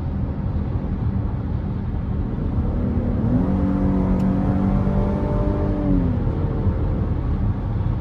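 A 2023 Chevrolet Blazer Premier with the 3.6L engine and AWD, accelerating in sport mode, its engine note climbing steadily under a constant road hum before dropping away at the gear shift.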